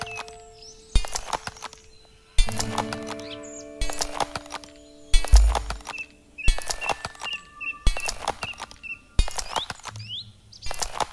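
Rhythmic galloping hoofbeats from horse riding in the Roblox Wild West game, repeating in regular bursts roughly every second, mixed with short chirpy game sounds.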